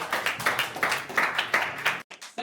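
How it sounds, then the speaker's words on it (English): Audience clapping for the second-place team at the Tech:Berlin hackathon, a steady crowd of hands in bursts that swell and fade, then a sharp cutoff near the end followed by a brief quieter patch of scattered claps. "Big applause."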